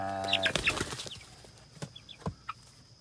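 A chicken in a chicken tractor clucks close by in a quick burst, followed by scattered soft clucks and light rustling.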